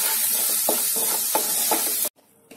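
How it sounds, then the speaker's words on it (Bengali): Ground spices and tomato sauté in a pan for a Bengali rui fish curry, giving a constant close hiss with soft rhythmic stirring strokes. The sound cuts off abruptly near the end. "দিয়ে আমি একটু কষে নেব 2 মিনিট মতো"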